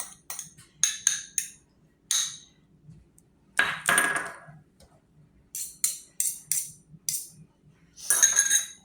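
A spoon or utensil clinks and scrapes against a bowl while egg with vanilla is mixed into sugar-free cashew butter cookie dough, in short irregular bursts with quiet gaps between them.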